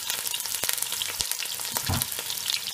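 Small onions and curry leaves frying in a pan for a Malabar mutton kurma, a close, steady crackling sizzle broken by the scrape of stirring, no talk.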